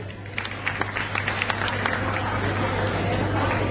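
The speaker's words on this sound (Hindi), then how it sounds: "एक बार जोरदार तालियां" A crowd claps steadily in a busy room at an International Women's Day award ceremony in Moradabad, with scattered voices and a constant low hum beneath the applause.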